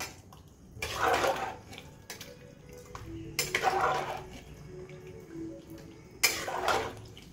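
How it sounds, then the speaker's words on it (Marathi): Water pours into a cooking pot of potato, cauliflower and peas in three separate bursts, each a few seconds long, with quiet clinks and drips between them. "अजून थोडंसं पाणी टाकूयात"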